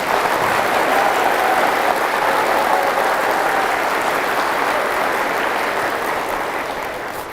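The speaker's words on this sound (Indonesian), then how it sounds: "Siapa yang paling kuat tepuk tangannya, itu yang paling kuat program-program kemanusiaannya ke depan." Loud, sustained applause rises from an audience at a propolis study gathering in Jakarta, a dense even roar of clapping that tapers slightly at the end.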